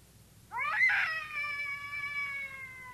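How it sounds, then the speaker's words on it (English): A cat yowls in a drawn-out, wavering wail, loud and close, rising then sustaining for a couple of seconds over a low background hum. "Did you wake me up so I could listen to that cat concert?"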